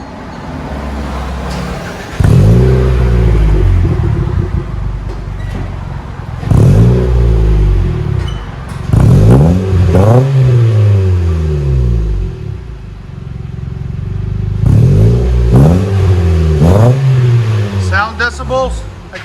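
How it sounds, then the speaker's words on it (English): A 2009 Mitsubishi Lancer four-cylinder with its muffler deleted and a stainless steel DTM can muffler fitted revs hard four times, each loud, close burst rising and falling over a steady idle, with voices heard at moments. "delete basically and replaced it with a stainless steel can muffler. Like a MagnaFlow"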